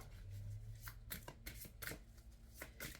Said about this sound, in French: On va prendre une carte de l'oracle de Gaïa.